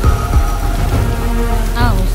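Steady heavy rain pours down, a dense continuous hiss and patter filling the scene, with a faint tonal background and no speech.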